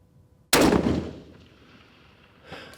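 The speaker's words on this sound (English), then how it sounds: "I'll shoot center." A single sharp rifle shot cracks out loud and close at an outdoor shooting range, its report rolling away in a long decaying echo, followed by a faint clatter near the end.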